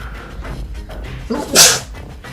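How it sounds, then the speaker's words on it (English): A single sharp, close sneeze bursts out after a brief intake of breath, with low background noise before it. "I sneezed."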